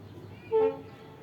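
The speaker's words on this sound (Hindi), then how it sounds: "सॉरी, बगल में ट्रेन चल रही है गाइस, मेरा घर जो है बगल में ही है, ट्रेन के इस रेलवे स्टेशन के बगल में" A train runs past beside a railway station near a home, with a low steady rumble and one short horn toot rising briefly over it.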